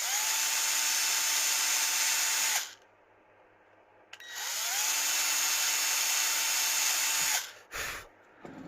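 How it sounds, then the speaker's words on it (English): A power drill bores out holes in a Chinese-made circuit board during a Lucid 405 parts upgrade. It makes two long, loud, steady whining bursts separated by a quiet gap, with a short final burst at the end. "we're going to have to drill those ones out as well"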